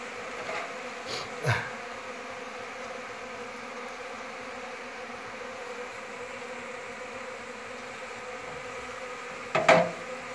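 A steady, dense drone of bees swarming around a wild honey nest in the Philippines fills the air continuously, with a couple of brief louder knocks or bumps near the start and end.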